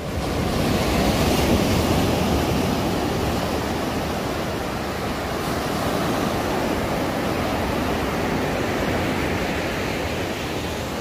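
Surf rolls in steadily at Tunggul Buto beach, a white-sand shore with coral rocks, as a broad, continuous wash of waves close by with wind noise over the microphone and no voices.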